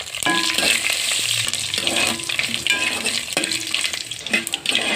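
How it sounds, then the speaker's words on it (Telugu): Fenugreek, cumin, mustard seeds and dried red chillies sizzle and crackle continuously in a hot pan, with occasional stirring scrapes, close and fairly loud. "ఇప్పుడు కొద్దిగా మెంతులు జీలకర్ర ఆవాలు ఎండుమిర్చి ఇవన్నీ వేయించేసుకోవాలి"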